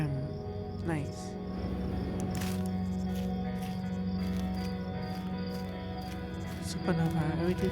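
Crickets chirp in the Outer Wilds video game and outside a window, a continuous high pulsing trill beneath a person talking, with game sounds swelling around it.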